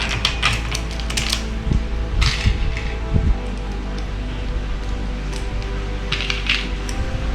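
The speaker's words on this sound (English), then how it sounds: "you want to hand tighten these as much as possible" Bolts are hand-tightened while assembling a rattan patio furniture set, with faint metallic clicks, small rattles and brief scraping handling noises over a steady low background hum.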